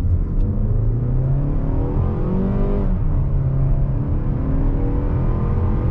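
A 2022-2023 Mazda3 Carbon Edition hatchback accelerates at full throttle from 0 to 60, its engine rising steadily in pitch through the gears, a loud continuous rev heard from inside the cabin with no talking.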